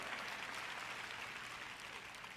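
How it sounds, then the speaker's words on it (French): Congregation applauding during a French-language sermon, a faint, distant wash of many hands clapping at an even level. "Vous applaudissez tous"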